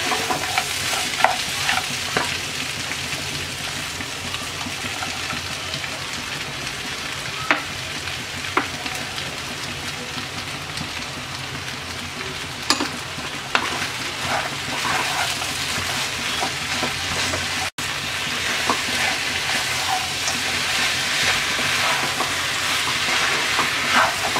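Gooseberries fry in a pan with jaggery and sugar for a pickle, a steady close sizzle with scraping stirs and occasional clinks throughout, no voices.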